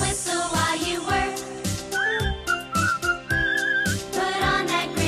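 A bright whistled tune rises over a bouncy musical accompaniment, the whistling carrying the melody for a few seconds in the middle.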